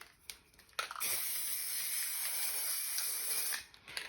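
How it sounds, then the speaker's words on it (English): Spray paint hisses through number stencils onto a mixed media painting, a short tap or two, then one sustained close, bright aerosol burst lasting about three seconds before cutting off. "I'm just going to spray some of these numbers on as well"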